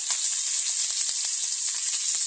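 Crushed garlic, about ten cloves, tossed into hot oil with a broken dried red chilli and a green chilli for an egg masala, giving a steady close sizzle with small crackling pops throughout.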